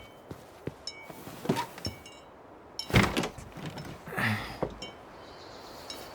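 In the video game Tell Me Why, a locked door is tried, producing several soft clicks and rattles from the handle and latch, then a louder jolt and clunk as the door resists. A few metallic clinks follow.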